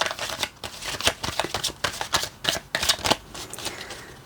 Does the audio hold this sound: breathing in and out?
no